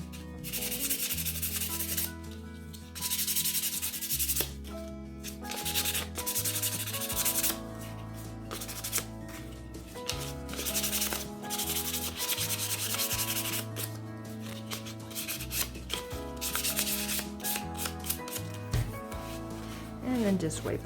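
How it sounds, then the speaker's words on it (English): Sandpaper rubs back and forth along the edges of a wooden sign in a busy, uneven rhythm of scratchy strokes, close and fairly loud, with brief pauses between passes. "just take your sandpaper along those edges and wear them down a little bit"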